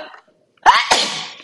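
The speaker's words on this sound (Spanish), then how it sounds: "Le estornudé en la cara a mi perro." A single loud human sneeze bursts out close to the mic after a brief quiet moment, followed by a short trailing exhale; a little speech is heard before it.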